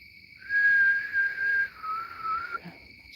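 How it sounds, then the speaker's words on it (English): A person attempts a whistle outdoors at night, producing a thin, wavering tone held for about two seconds with a brief break, fairly close and alone against faint background. "I'm going to do a little bit of a whistle here"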